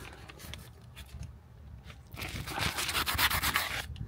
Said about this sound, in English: Sand it with the sand pads.